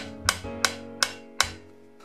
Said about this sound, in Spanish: con este martillo de nylon para no abollar la boquilla, lo que vamos a hacer es clavarla boquilla